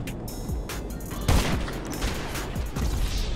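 Gunfire in a shooter video game: bursts of rapid shots and scattered single cracks, loud and close, with a heavier volley near the middle and continued firing after it.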